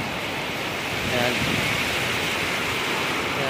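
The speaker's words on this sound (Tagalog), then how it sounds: "Naabot tayo ng ulan." Steady rain falls around a parked spot, a dense, even hiss that fills the background continuously and swells slightly partway through, with no clear speech over it.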